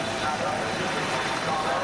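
A helicopter returning to the Brands Hatch circuit during the 1986 British Grand Prix, its rotor and engine drone steady and fairly distant under a commentator's voice.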